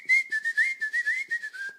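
A person whistles a tune alone, a clear bright melody of short phrases with brief breaths between notes, close and steady.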